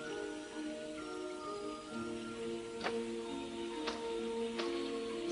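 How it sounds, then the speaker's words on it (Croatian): Steady rain falls in a cartoon setting, heard as a soft continuous patter with a few sharper drips standing out, while a gentle musical tone sustains underneath and no one speaks. "Toga dana kiša je počela padati rano poslijepodne."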